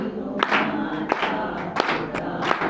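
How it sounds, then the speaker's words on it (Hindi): A crowd greeting a procession of walkers claps in rhythmic, roughly evenly spaced bursts, with voices chanting and cheering along. "तो तालियां।"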